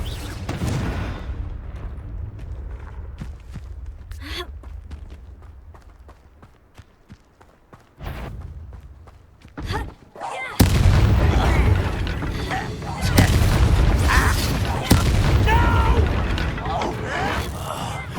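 A Confringo explosion spell in Hogwarts Legacy, with heavy booms and blasts building into a loud, sustained roar of combat noise, punctuated by sharp impacts and scuffling footsteps, with voices heard amid the fight.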